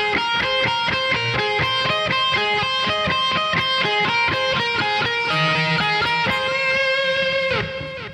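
Electric guitar plays slow variations of a solo: a steady run of clear, sustained melodic notes with a light distorted tone, loud and close, continuous for several seconds before the last note fades.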